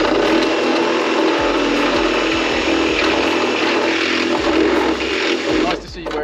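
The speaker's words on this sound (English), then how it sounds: "Fibreglass, you can just make that wider with the drill in the hole." A loud, steady power drill whine grinds continuously while widening a hole in fibreglass, with occasional rough catches as it bites into the material, then briefly eases near the end.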